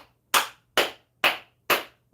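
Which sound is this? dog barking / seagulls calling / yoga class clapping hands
yoga class clapping hands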